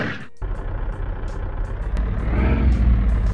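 Worn-out old car engine in the Dating Simulator video game, starting up with a thump and settling into a loud, rumbling run that swells toward the end.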